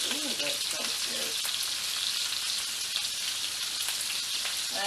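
Onions sizzle steadily in a skillet with cabbage, a dense, even hiss of frying that holds throughout without any talk.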